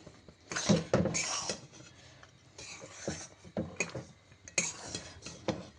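Atta flour being stirred quickly in a pan to roast it for laddoos, giving bursts of scraping and clinking of a utensil against the pan in uneven strokes, close and fairly loud, with no talk.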